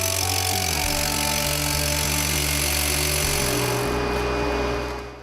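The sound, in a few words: drilling injection holes in a chalet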